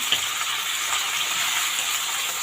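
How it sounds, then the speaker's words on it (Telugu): Chicken pieces frying hard in hot oil over a high flame, a steady loud sizzle that carries on without a break and has no voices. "ఈ చికెన్ని హై ఫ్లేమ్ మీద బాగా వేపుకుందాం"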